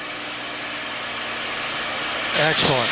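A TF-51 Mustang's propeller engine drones loudly and steadily in flight as the throttle is eased back, filling the cockpit, with a short spoken word near the end.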